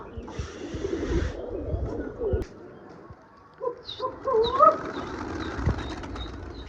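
Pigeons at a rooftop pigeon-flying contest, with soft cooing and brief wing flutters under nearby talk and background noise.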